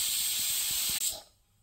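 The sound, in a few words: brinjal frying in oil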